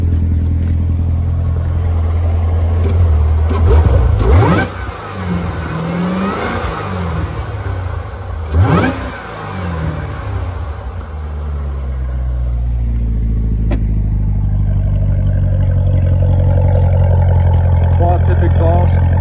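A supercharged 6.2-liter LT4 V8 in a 2015 Corvette Z06 revs sharply twice, exhaust climbing and falling back, then settles into a loud, deep idle close by, with someone talking over parts of it.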